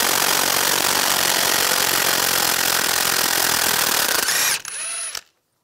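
A power tool fitted with a 30 mm 12-point socket spins off the front lower ball joint nut on a 2004-2009 Toyota Prius. It is loud and continuous for about four and a half seconds, then winds down briefly and stops.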